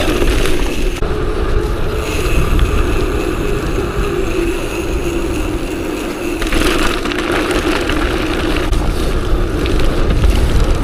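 Steady rushing wind noise buffets the microphone of a cross-country mountain bike riding downwind at speed, over a low engine-like rumble, loud and continuous throughout.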